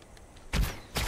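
A bow shot landing a headshot on an animal in Far Cry Primal: a sharp thudding impact cuts in after quiet ambience, followed shortly by a second short punchy hit.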